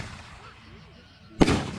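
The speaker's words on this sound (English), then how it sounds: "that has to be the loudest firework right now" A single loud firework bursts with a sharp, booming crack after a stretch of quieter background, set off outdoors during a family fireworks display.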